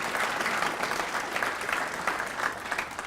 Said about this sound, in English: Let's have a big round of applause to the folks from the Pleasant Valley Fire Department who served this meal.